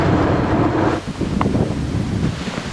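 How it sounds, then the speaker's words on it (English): Wind buffets a cyclist's microphone on a steep mountain downhill during a long-distance ride, a loud continuous low rumble that eases slightly after the first second and keeps roaring, with no talking. "pretty windy"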